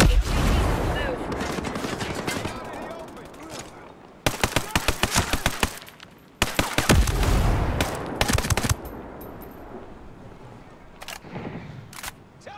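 Gunfire in the tactical shooter Ghost Recon Breakpoint, with rapid bursts of sharp automatic shots in clustered volleys and single cracks between them, plus occasional in-game voices.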